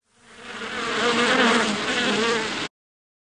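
A yellow jacket wasp buzzes steadily and close, the drone swelling louder over a couple of seconds before cutting off abruptly.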